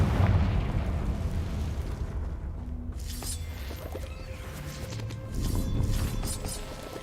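Confringo blast spell going off in a video game, a loud booming explosion with rumbling low roar that swells again near the end, no speech over it.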